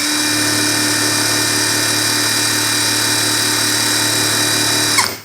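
A Mollar CIW20350E half-inch impact wrench runs unloaded at its highest speed, a loud, steady high-pitched motor whine held for about five seconds before it cuts off and spins down.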